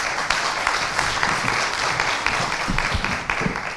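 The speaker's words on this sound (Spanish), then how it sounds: "Un aplauso lo recibimos al vicepresidente." Steady audience applause welcoming a vice president at a real estate professionals' association training session, a moderate wash of many hands clapping at mid distance throughout.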